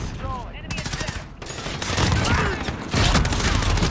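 Video game gunfire with shotguns, dense bursts of rapid shots and blasts layered over game effects, loud and continuous throughout.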